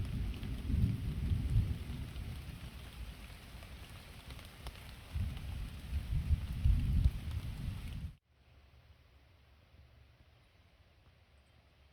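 A thunderstorm with steady heavy rain and low rumbling thunder fills the first eight seconds outdoors on a hillside, then the sound drops abruptly to a faint quiet hiss.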